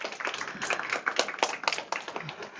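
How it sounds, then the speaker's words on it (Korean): A lecture audience at a political party school breaks into dense, sustained applause, many hands clapping together at close range for a few seconds. "박수 한번 부탁드리겠습니다."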